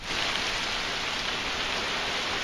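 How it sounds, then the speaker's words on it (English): Heavy rain pours steadily during a thunderstorm, a dense, loud, unbroken hiss of drops hitting surfaces with no pauses or voices. "So it's still raining like crazy."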